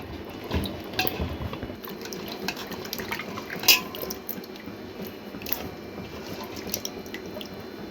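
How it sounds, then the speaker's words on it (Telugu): Water is poured over small gooseberries in a bowl to wash them after they were soaked with soda and salt. It makes quiet splashing and trickling with a few drips and one sharp clink, and no voices are heard. "ఇంకా వాటర్ కూడా పోసేసుకుంటున్నా. శుభ్రంగా కడిగేసుకుంటే బాగుంటుంది."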